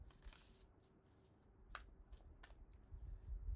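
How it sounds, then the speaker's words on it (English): Soft riffling and flicking of tarot cards being shuffled, quiet and close, with a few sharper snaps and some low handling thumps toward the end. "Shuffle these cards up a little bit."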